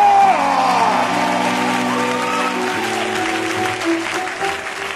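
A church congregation claps and cheers under a sustained chord, probably from an organ or keyboard. The applause comes with scattered whoops and shouts, loud and steady from start to finish.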